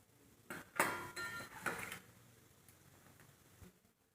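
Mustard seeds and cumin splutter in four spoons of hot oil for a tempering, a few sharp crackling bursts early on, then a quieter scattered popping that fades out.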